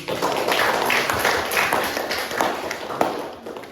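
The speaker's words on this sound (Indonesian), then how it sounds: "berikan tepuk tangan dulu" Classroom audience applauding after a student presentation: a steady wash of many hands clapping at moderate loudness for several seconds, with scattered sharper claps standing out and no talk over it.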